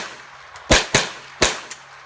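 Three sharp .22LR rifle shots from a Ruger 10/22-type semi-auto fired with stuttered timing, two close together then a third after a pause, loud and near with a faint fourth crack trailing.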